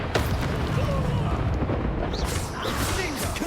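Fiery Incendium spell burst in a video game, a dense roaring whoosh of flame sustained throughout, loud and close with a voice calling out over it.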